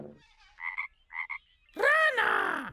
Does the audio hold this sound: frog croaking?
yes